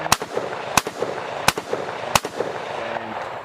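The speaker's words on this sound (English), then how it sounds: "I'm out here and I'm shooting at the range." Rifle shots at an outdoor shooting range crack out four times at a steady pace, sharp and loud, with softer distant pops and ambient noise between them.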